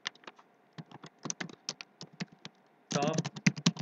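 Computer keyboard keys tapped while entering a nested IF formula in an Excel spreadsheet, scattered close clicks that burst into a rapid, louder flurry of typing near the end.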